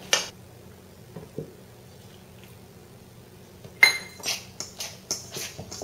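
A utensil stirs almond milk into a thick batter in a mixing bowl, giving sparse clinks and scrapes that quicken into a run of sharp knocks against the bowl.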